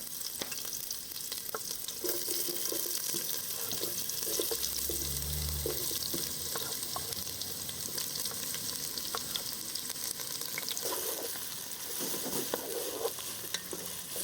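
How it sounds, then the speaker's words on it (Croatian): Onion sautés in a thin layer of oil in a pot, giving a steady soft sizzle with occasional stirring scrapes and clinks, alone without talk. "U lonac dodamo malo ulja, da prekrije dno, i bacimo kapulu da se dinsta."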